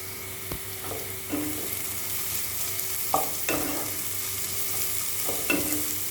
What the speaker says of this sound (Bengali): আর পেঁয়াজটাকে আমি একদম গোল্ডেন ব্রাউন করে ভেজে নেব।